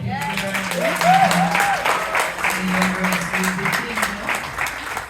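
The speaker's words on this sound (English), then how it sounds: "So I just want you guys to clap her out again." Audience applause at a community forum, sustained clapping through the whole stretch with a voice talking faintly underneath.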